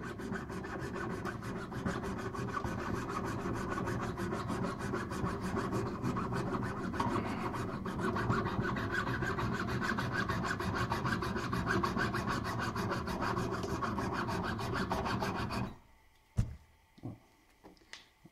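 Hand-cutting a wide piece of metal for a ring produces a steady, continuous rasping saw stroke for about fifteen seconds, close and loud, then stops abruptly, leaving a few faint knocks and clicks.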